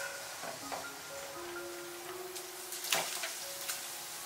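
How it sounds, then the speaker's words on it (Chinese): Minced garlic frying in hot oil with the heat turned off after coriander was fried golden, a steady soft sizzle throughout with faint scraping of stirring, no talk. "接着把蒜蓉放进来炸"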